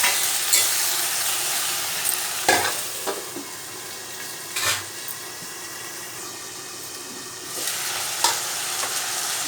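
Tomatoes and capsicum sautéing in a covered pan for a capsicum gravy, a steady close hiss and sizzle with a few sharp clacks of the lid or spoon, no talking.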